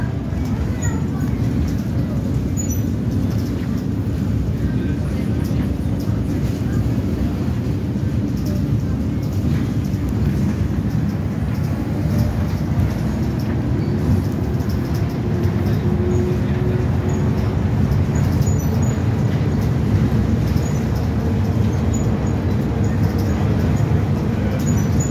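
Steady rumbling roll of the Seattle monorail during a full ride, a continuous loud low drone with little variation throughout, and no clear talk over it.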